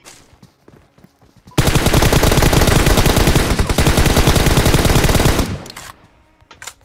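Loud, dense automatic gunfire from an M16 in PUBG Mobile rattles in one long sustained burst, with quieter game ambience and distant shots before and after.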